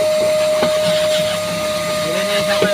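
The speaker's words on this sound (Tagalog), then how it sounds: "Nag-vacuum ako dito guys." A vacuum cleaner running close up while the inside of a car is cleaned, making a loud, steady motor drone with a constant whine and some shifting suction noise throughout.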